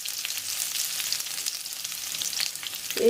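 Chopped onions fry in hot oil in a pan for an Odia egg masala curry, giving a steady close sizzle and crackle throughout, with a brief clink near the end.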